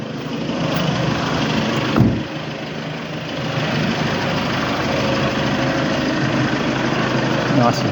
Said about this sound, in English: Get out to hear the engine.